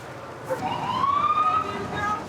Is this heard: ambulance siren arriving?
yes